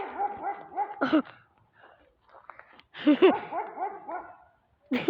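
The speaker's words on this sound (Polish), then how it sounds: "Jest jaki pies. Słyszycie to na pewno." A dog barks in short, close bursts: a quick string at the start, another flurry midway, and one more bark at the end, with quiet gaps between.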